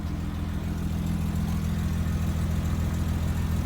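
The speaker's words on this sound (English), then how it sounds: "Just cold idling right now." A 1989 BMW 325iS E30 engine runs at a cold idle, a steady low rumble close to the microphone that holds even with no revving and no voices.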